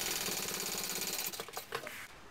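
A sewing machine runs a second row of stitching along a backpack seam, a close, fast, even mechanical whir that stutters into short bursts and stops near the end.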